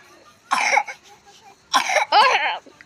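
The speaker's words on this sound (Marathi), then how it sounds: "ए खोकला काय झालं?" Someone coughs, first in a short burst and then in two heavier harsh coughs close to the mic, in an otherwise quiet room.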